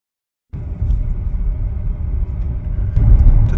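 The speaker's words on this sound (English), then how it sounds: "The trash truck is out here." A trash truck rumbles outside on a snowy March day, a steady loud low engine drone that swells slightly toward the end, with no talk.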